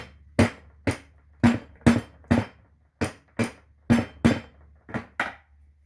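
A hammer strikes a metal lawn mower part about a dozen times in sharp, ringing taps at an uneven pace, close up, with a faint hum underneath.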